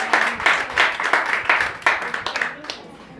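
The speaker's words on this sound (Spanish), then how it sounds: "Démosle un fuerte aplauso al Señor" Church congregation giving a strong round of applause during a service, steady rhythmic clapping with distinct pulses close by, mixed with faint voices and tapering slightly toward the close.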